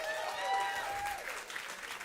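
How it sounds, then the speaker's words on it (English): An audience's round of applause at a chef-themed stage event, a continuous wash of clapping with a few whistles and cheers rising over it, fading slightly toward the end. "keep that round of applause going"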